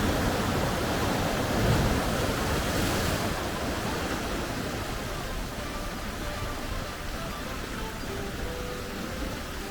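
Steady roar of Pacific ocean surf crashing and washing on a California beach, loud and continuous, with no voices.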